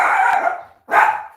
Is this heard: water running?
no